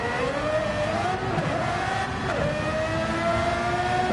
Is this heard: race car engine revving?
yes